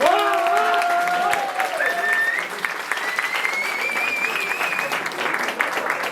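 An improv theatre audience applauds in a sustained burst of clapping and cheering as a vote for the green team, with a few whistles rising over the crowd.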